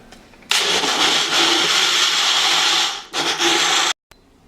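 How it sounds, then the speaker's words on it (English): A kitchen blender whirs loudly while blending carrot with honey and orange, running steadily for about two and a half seconds, briefly stopping, then running again before cutting off abruptly. "I'm gonna blend it again to mix the carrot with the honey and orange together."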